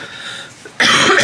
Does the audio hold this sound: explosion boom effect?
no